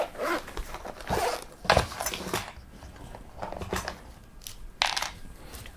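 Knife slicing through the plastic packaging of ABRO steel putty, a series of short crisp scraping and tearing bursts with brief pauses between, close up and alone.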